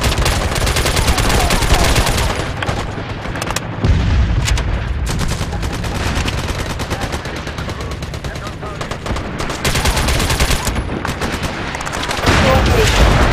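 Rapid bursts of automatic gunfire in the video game MAG crackle almost continuously, loud and dense, with brief lulls between volleys.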